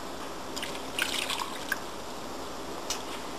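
A cup of water goes into a cooking pot of chicken adobo with vinegar, giving faint splashing, dripping and trickling sounds, quiet and brief, against a low background hiss.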